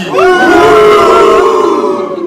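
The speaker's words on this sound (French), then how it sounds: "Hué pour Samy" Loud, close booing from a quiz show audience aimed at a contestant, a dense chorus of sustained voiced jeers swelling quickly and holding for about two seconds before trailing off.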